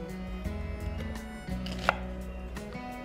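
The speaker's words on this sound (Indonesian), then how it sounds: "kita potongin dulu 1 bawang bombay" A knife chops an onion on a cutting board in a home kitchen, giving a few close, crisp knocks spaced irregularly over about three seconds against a quiet humming background.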